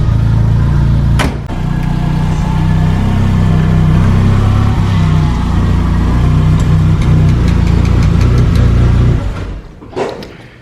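A 1985 VW Scirocco Mk2 engine idles loudly and steadily close by, with a few sharp knocks at the start and end as it runs on.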